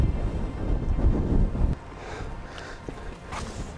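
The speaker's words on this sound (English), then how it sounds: "It's super windy out here and it's already starting to rain a little bit." Strong wind blows outdoors and buffets heavily in a loud low rumble for nearly two seconds, then drops to a softer, gusty rush.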